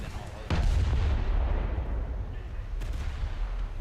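A Russian battleship fires its guns in a naval video game, a heavy booming blast that rolls into a dense, sustained low rumble, with a second faint shot later, loud and close.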